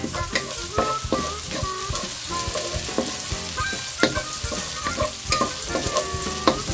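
Onions sizzle and fry in a pan, a continuous crackling hiss broken by the clatter of a utensil stirring and scraping at irregular intervals, close and fairly loud.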